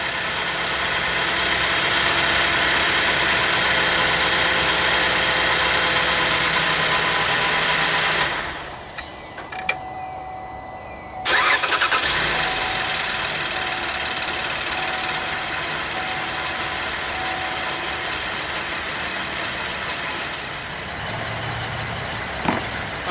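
The engine of a GM crossover (Traverse, Acadia, Enclave or Outlook family), flooded with carb cleaner sprayed into the throttle body, runs loud and steady, briefly dies away, then starts again and settles into a continuous close idle.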